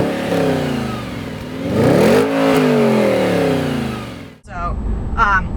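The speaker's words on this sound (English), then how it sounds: "the Miltech resonated exhaust is something that just really opens it up" Audi RS4 with a Milltek resonated exhaust revving loudly up close, the engine note rising and falling in a couple of sweeping revs before cutting off abruptly; no talking is heard.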